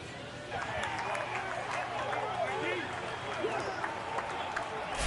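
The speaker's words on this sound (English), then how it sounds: "they're cheering out in the bullpen, as you can hear them" Minor league baseball players cheer and shout in the bullpen after a home run at an Amarillo Sod Poodles game against the San Antonio Missions. The excited voices and whoops sound distant and blend with crowd noise at the ballpark.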